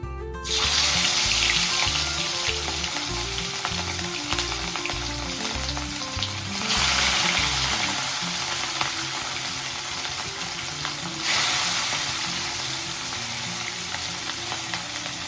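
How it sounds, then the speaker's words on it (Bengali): Fish sizzles steadily in hot mustard oil, a loud continuous crackling fry, with a low rhythmic tune underneath at first. "এবার একটু সর্ষের তেল দিয়ে দিলাম। এবার মাছগুলোকে ভেজে নেব।"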